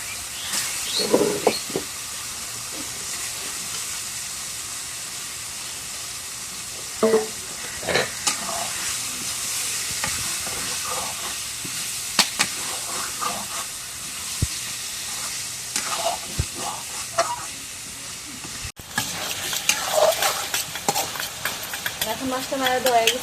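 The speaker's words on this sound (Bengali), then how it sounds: "এখন মশলাটা কষানো" Masala paste is stirred and fried in a pan, a constant hissing sizzle broken by sharp scraping strokes of the spoon, with a brief burst of louder spitting near the end.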